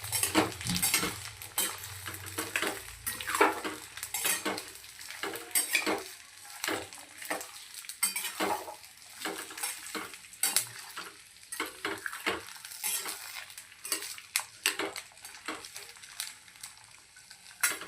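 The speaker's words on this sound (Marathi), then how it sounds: "लो फ्लेमवर आपल्याला हा लसूण छान असं होऊ द्यायचा आहे।" Garlic fries in a pan over a low flame for a pickle. A spoon clinks and scrapes against the metal repeatedly as it is stirred, over a faint, steady sizzle, close by and quiet.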